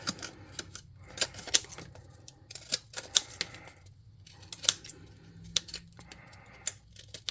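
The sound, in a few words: scissors cutting craft material for a model airship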